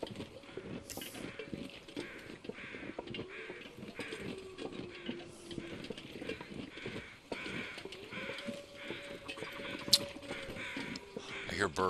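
Crows cawing in the wilderness of The Long Dark, several calls scattered across the scene over steady game ambience, with someone talking throughout.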